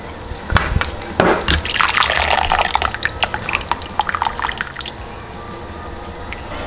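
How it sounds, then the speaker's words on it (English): Boiled beets and their cooking water poured through a strainer in a home kitchen, a splashy rushing pour with drips and clatter that fades after several seconds, no talking. "So I'm just gonna pour it in and drain it out."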